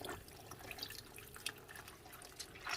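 Water drips and trickles from newspaper soaked for making charcoal, producing soft, close, irregular droplet patters and small splashes against quiet background hiss.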